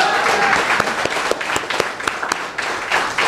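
A loud, dense burst of applause from the gathered audience for the party leadership at the 2012 African People's Socialist Party plenary, many hands clapping close and steadily with sharp individual claps standing out.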